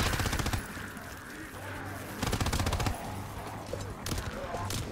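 Rapid automatic gunfire in a WW2 zombies video game, with two close, loud bursts of fast repeating shots separated by quieter stretches and lighter scattered firing, while players talk over it.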